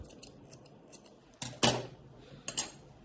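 Scissors cut crochet yarn close by: light ticking snips at first, then two sharp, crisp closing snaps a second apart, with quiet handling noise between.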